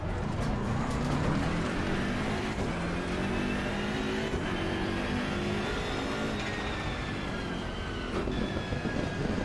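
A BMW M6 GT3 race car in Assetto Corsa Competizione, its engine roaring loudly and steadily with rising and falling pitch through gear changes, continuous and close throughout.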